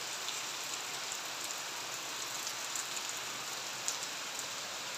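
Steady rain falling on a cloudy day, a soft continuous patter and hiss of drops on surfaces heard alone at low level throughout, with no voices.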